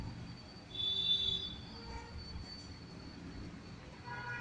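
A passenger train rolls along in a railroad simulation set between London and Canterbury, a faint steady rumble with a short high squeal of wheels.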